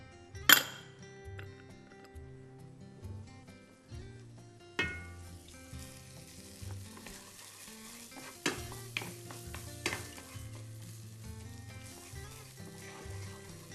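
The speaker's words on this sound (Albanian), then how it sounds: "Kaloj orizin pa u ngrohur fare, tigani, fare pa u ngrohur." Rice with beans being stirred in an unheated frying pan, with a loud metal clink near the start, then steady scraping and stirring with scattered utensil clinks throughout, close and moderately loud.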